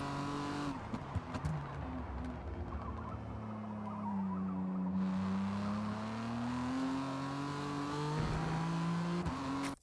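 BMW M4 GT3 race car in Forza Motorsport, its engine holding a loud, steady drone with slow pitch swells and a rising pull near the end, continuous and close with no talking.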